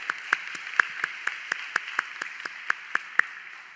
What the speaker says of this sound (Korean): 다시 한번 리더십 컨퍼런스를 섬기고 다녀온 순장과 다락방장들, 그리고 예배팀과 리더십들에게 다시 한번 격려와 사랑의 박수를 보내겠습니다.